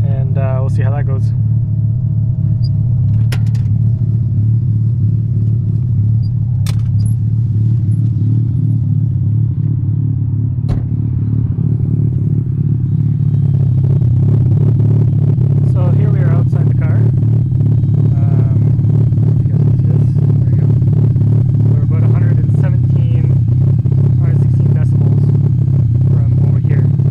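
A 1985 Mazda RX-7 idles outdoors through homemade mufflers, giving a loud, steady, low exhaust rumble that holds evenly throughout with a faint rattle on top.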